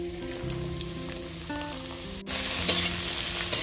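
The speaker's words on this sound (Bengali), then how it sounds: "গাজরটাকেও এবার ভেজে নেব" Chopped carrot fries in a pan with golden-brown garlic and ginger, a steady close sizzle that turns louder and busier midway as the pieces are stirred, alone with no voices.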